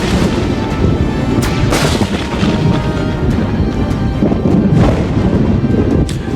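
Rifle gunshots from the Roblox game Dead Rails boom out repeatedly as loud, heavy blasts over a dense, continuous rumble of battle noise, with no voices heard.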